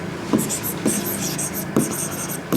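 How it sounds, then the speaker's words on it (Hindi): A note being written quickly by hand, pen scratching in short bursts with brief pauses between strokes, close and steady under a faint background hum. "चलो जी, अब एक नोट लिखेंगे जल्दी से।"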